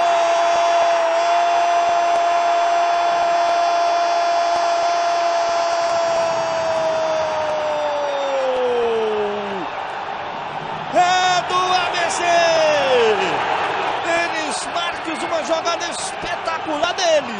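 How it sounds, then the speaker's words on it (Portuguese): ABC fans at Arena das Dunas erupt in cheers after a goal, a dense roar with whistles and horn-like tones, rising again after a brief lull. "Explode a torcida do ABC aqui na Arena das Dunas"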